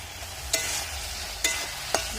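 Pangas fish sizzles steadily in a pan with salt and turmeric, a constant close frying hiss broken by three sharp clinks of a spoon stirring, with no voices.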